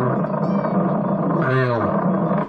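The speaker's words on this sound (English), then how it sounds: "this is what people on sideband sound like to you when you're on" Single sideband CB radio transmission received on an AM radio, with an unbroken, loud, garbled and warbling voice-like sound that is distorted beyond clear speech.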